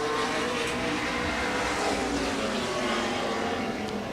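Race cars roar around the Grundy County Speedway oval, a dense, steady engine wash from several cars at once, loud and unbroken with no talk over it.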